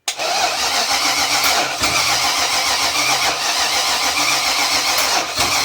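A Volvo Penta AQ271 marine engine cranks and catches, then runs roughly at close range, its loud rumble sagging and surging as it bogs down, with brief dips near the middle and end.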